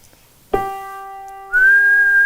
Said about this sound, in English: when you whistle G